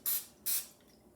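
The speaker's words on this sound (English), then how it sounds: "I'm going to lightly spray it with nonstick cooking spray." Nonstick cooking spray misted into a 12-cup muffin tin in a kitchen: two short hissing bursts from an aerosol can, close but fairly quiet, then near silence.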